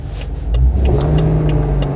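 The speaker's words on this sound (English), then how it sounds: "Start the car." A 2011–2014 BMW 5 Series engine cranks and fires, then settles into a steady, loud, close idle with no talking over it.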